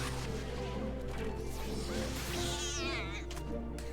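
A bat-winged cat creature in Final Fantasy XIV lets out a loud, wavering yowl that rises and falls over dense game music and effects, lasting a couple of seconds.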